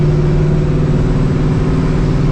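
Straight-piped, supercharged New Edge Ford Mustang GT V8 revving up close, a loud steady engine drone with strong low harmonics held throughout, no talking.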